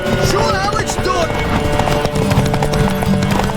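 Horse hooves clip-clopping at a gallop in The Witcher 3, a steady rhythmic beat set against game music, with a horse whinny and voices speaking over it.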